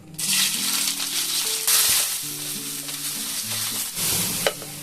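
Onions frying in white oil in a pan, a steady loud sizzle with stirring scrapes running throughout, with no voice present.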